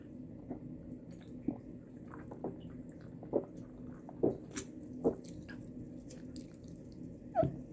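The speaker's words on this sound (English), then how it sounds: "Let's take some water." A person drinks water up close, with soft wet sips, swallows and small clicks recurring irregularly over a quiet background.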